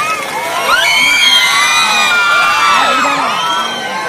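A packed school audience at an annual day celebration cheers loudly, with children's shouts and whoops forming a dense, steady roar that carries through the whole stretch.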